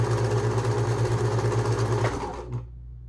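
A Husqvarna Viking 190 sewing machine stitches fabric in a steady, fast mechanical whir with a regular pulse, running loud and close for about two and a half seconds before it stops and a quiet hum remains.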